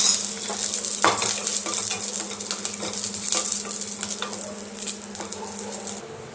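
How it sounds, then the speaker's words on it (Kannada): Garlic frying in a little oil for a chutney, a close, steady crackling sizzle with a low hum underneath and scattered light clinks of a spoon against the pan. "ಬೆಳ್ಳುಳ್ಳಿನ ಹುರ್ಕೊಳ್ಳೋಣ ಬೆಳ್ಳುಳ್ಳಿಗೆ ಒಂದು ಸ್ವಲ್ಪ ಎಣ್ಣೆ ಹಾಕೋತೀನಿ"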